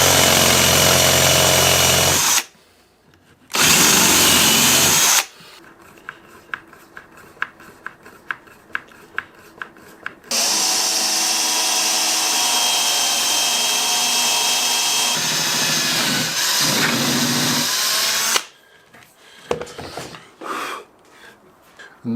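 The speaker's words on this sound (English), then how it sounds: "so that's the depth I want to cut these holes, just a bit over, so I've marked the drill bit with some masking tape" Power drill boring holes into a wooden guitar body, loud sustained whirring runs broken by short pauses and a series of clicks, with the motor starting and stopping several times.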